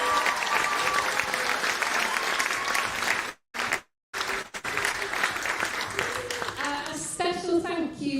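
Sustained audience applause and cheering for school staff and head teachers at a children's street band showcase concert, loud and continuous with a brief cut-out midway, and voices rising near the end.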